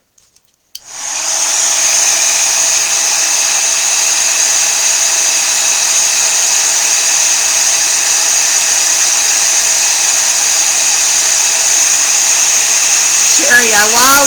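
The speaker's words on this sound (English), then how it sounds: "let's heat gun this up" Heat gun blowing hot air onto embossing powder on a handmade Christmas card, switched on after a brief click and then a loud, steady whining whoosh held close for over ten seconds.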